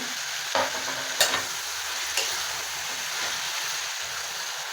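Pumpkin and tomato frying in oil are stirred in a pan, a steady close sizzle broken by a few sharp spoon scrapes and clacks against the pan.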